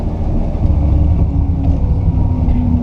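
Car with a three-on-the-tree column shift, its engine idling low and steady as the clutch is worked, a loud, close rumble without talk.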